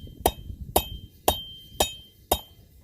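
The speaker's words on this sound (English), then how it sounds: "And now I'm moving to the next blow. It's a shearing blow." A blacksmith's hammer strikes steel against a cutoff tool in a shearing blow, five sharp ringing metallic hits at an even, unhurried pace, close and clear with no speech.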